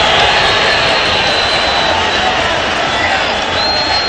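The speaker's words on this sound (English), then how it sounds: "you can hear a good contingent of those Salvadorian fans cheering that decision" A large contingent of Salvadoran fans roars in a stadium at a USA vs El Salvador World Cup qualifier, a loud, dense, continuous wall of crowd noise with a commentator talking over it.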